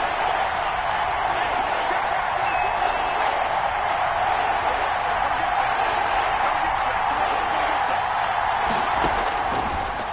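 A stadium crowd roars in an American football video game, a steady, dense wall of noise that holds at an even level throughout, with commentary voices running over it.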